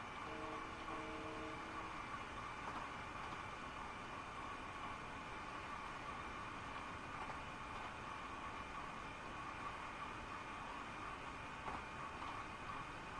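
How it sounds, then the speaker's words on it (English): A simulated train runs in Train Simulator Classic with a steady, even rumble and hum of the locomotive, droning continuously and quietly with no talk over it. "that you're actually driving a train and having fun"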